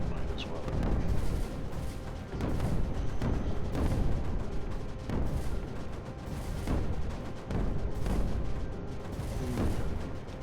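Mortars firing in the Creeper World 4 strategy game: a steady series of deep booming thuds at roughly even intervals over a dense rumbling bed, loud and continuous throughout.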